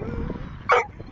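A single sharp bark from an Airedale terrier being chased by a horse cuts through the background, close and loud.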